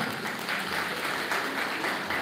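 A lecture audience in Assandh, standing at a yoga session, claps loudly and continuously, a dense, steady wash of applause from start to finish.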